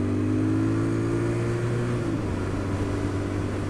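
A 2020 Royal Enfield Interceptor 650 motorcycle accelerates with a steady, low engine burble. The pitch shifts down around midway as it changes gear, then carries on under continuous road noise.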